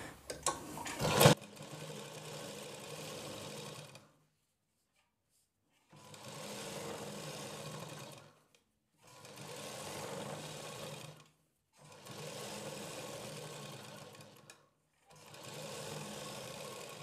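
Sewing machine stitching a blouse seam in a beginner tailoring class, running in four or five even bursts of steady whirring separated by short silent pauses, after a brief clatter at the start.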